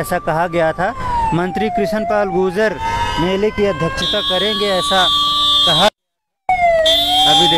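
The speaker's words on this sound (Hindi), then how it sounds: "ये देखिए सायरन की आवाज़ गूंज रही है" A wailing siren from a minister's arriving convoy rises and falls outside the Sector 12 HUDA Convention Centre, where a crowd has gathered for a job fair. Close, steady talk runs over it throughout, with a brief dropout near the end.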